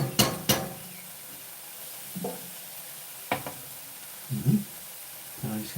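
A spoon stirs creamy courgette in a hot pan, with a faint sizzle beneath a handful of separate scraping and knocking strokes spaced out over several seconds.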